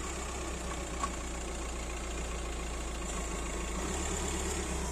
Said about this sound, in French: Il y a une voiture qui passe.